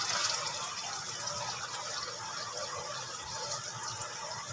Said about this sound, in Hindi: गोश्त डाल के थोड़ा गोश्त को भूनूंगी।